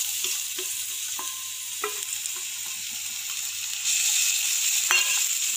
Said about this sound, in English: I'm going to fry the garlic. Put a bit of oil.